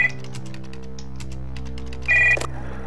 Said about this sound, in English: Behind the door, a phone starts to ring.